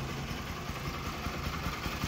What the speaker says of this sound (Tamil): இன்ஜின் சவுண்டு ஒரிஜினல் சவுண்டே இப்படி தாங்க இருக்குது.